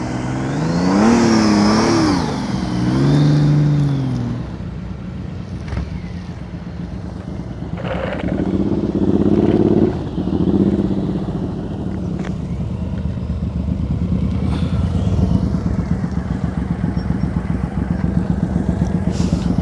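A motorcycle on a slow-speed riding-skills practice course blips and rolls its throttle, the engine rising and falling in short bursts then settling to a low idle-like rumble, with intermittent nearby mechanical noise and an instructor's voice briefly audible.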